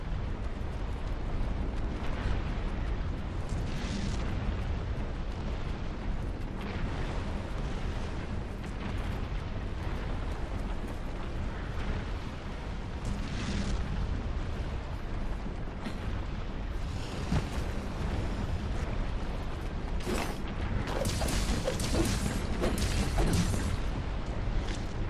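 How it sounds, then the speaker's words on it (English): Magma spewing from glowing monster cores in Monster Hunter World, a continuous loud rumbling roar with repeated bursting eruptions and crackling pops layered throughout, intensifying toward the end. "Watch out for that magma! It's spewing out of those cores!"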